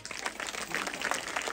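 An audience claps together in a steady, dense burst of applause at a live stage game show, bright and continuous for the whole moment without pause.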